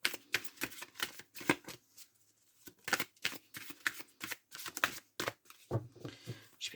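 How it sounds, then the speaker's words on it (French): Oracle cards being shuffled and cut by hand, a series of close, crisp riffling bursts and flicks in irregular clusters separated by short pauses. "Je vais vous faire une coupe, il n'y a pas de cartes qui sortent."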